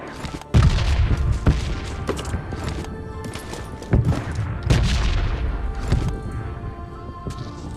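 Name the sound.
grenade explosion and gunfire in PUBG video game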